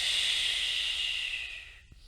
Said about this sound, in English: and then I can also exhale to lift up and in.